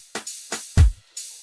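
A tom drum sample in an Afro House beat: a deep, booming tom hit lands among short, bright percussive ticks spaced evenly in a loop, with no voices over it.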